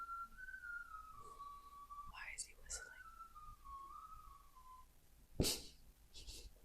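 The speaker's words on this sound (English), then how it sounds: "why is he whistling?" A person whistles a wavering melodic tune, fairly close, with a few breathy noises and a sharp rustle partway through.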